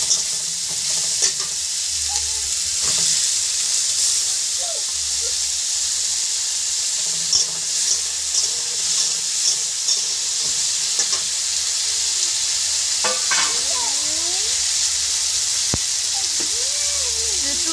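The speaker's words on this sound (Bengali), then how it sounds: "দিয়ে দিলাম কাঁচা লঙ্কা আমি পরে টমেটো দিই আগে আদা রসুন পেঁয়াজ দিয়ে নাড়াচাড়া করলাম" Green chilli, ginger, garlic and onion sizzle steadily in a hot pan, with a spatula stirring and scraping now and then, close and moderately loud with no talking.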